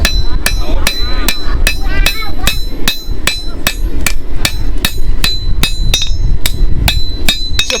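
Loud, steady hammer blows on steel being forged into knives ring out in an even rhythm, roughly three strikes per second, close up with no talk.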